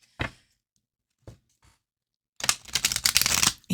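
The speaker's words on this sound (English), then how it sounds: "But let's give it a shuffle." An oracle card deck is handled in a few short, isolated taps and riffles, then shuffled in a dense, rapid flurry of papery slapping for about a second, close and crisp.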